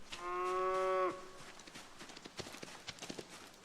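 One drawn-out cow moo from a video game, clear and tonal for about a second, followed by quiet scattered clip-clop and soft tapping sounds.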